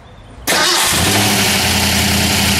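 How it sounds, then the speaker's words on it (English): A 1964 Shelby AC Cobra's original 289 V8 cranks and fires after half a second of quiet, then settles into a loud, steady, throbbing run close by, with no talk. "Let's start her up."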